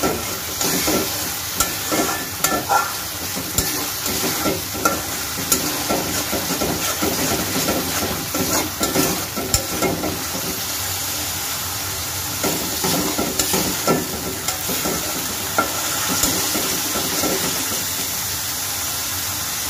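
Spice paste sizzles and crackles loudly in hot oil in a pan, with a spoon scraping and stirring through it in uneven strokes for a long, continuous stretch, close up and without talking.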